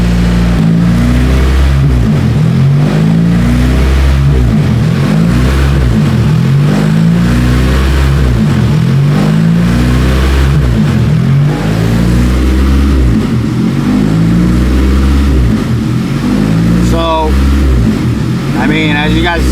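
Car engine with a vacuum leak, not yet at operating temperature, surging at idle in a steady rhythmic rise and fall, loud and close, while a person talks over it.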